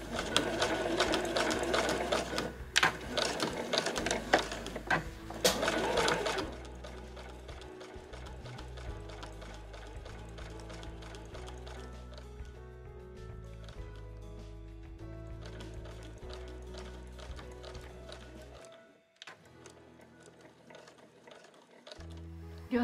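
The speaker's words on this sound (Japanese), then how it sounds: "この重なりの部分も返し縫いをします。" A sewing machine backstitches quilted nubi fabric for a large tote bag. It runs in loud, rapid stitching bursts for several seconds, continues more quietly in short runs, and falls nearly silent near the end.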